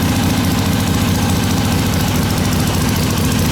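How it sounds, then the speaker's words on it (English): A Harley-Davidson Ironhead Sportster XLCH motorcycle engine runs steadily at a loud, even idle, with a continuous close rumble and no talk. "Now the bike sounds so even. It sounds like a different machine actually."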